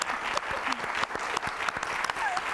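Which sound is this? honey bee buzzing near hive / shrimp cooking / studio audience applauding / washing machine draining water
studio audience applauding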